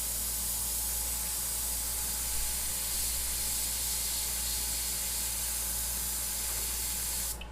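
An airbrush sprays paint in a steady soft hiss that runs on evenly for several seconds over a low hum, close and fairly quiet with no talking.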